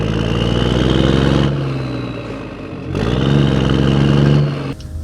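A 1995 Dodge Ram 2500 pickup with a power steering fluid leak runs close by, its steady engine note swelling and easing twice as if blipped between idle stretches, with no voices.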